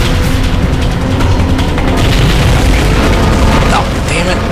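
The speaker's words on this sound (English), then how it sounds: "This thing's actually a cannon." Cannon blasts in the video game Resident Evil 4 boom heavily through the whole stretch, dense and loud with overlapping explosive bursts and game effects, while someone speaks over the action.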